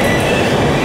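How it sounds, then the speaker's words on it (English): Steady rumble and rolling rattle of a Moscow metro train heard from inside a moving carriage, loud and continuous with faint wheel squeal, no talking. "So I decided just to jump on the metro."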